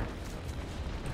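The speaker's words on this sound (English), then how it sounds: "My explosions activate every single time on my shift." Dense, roaring blast from Risk of Rain 2 multiplayer gameplay, a continuous loud rumble of explosions with no clear gaps and no talking over it.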